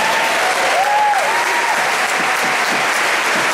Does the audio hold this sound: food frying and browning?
no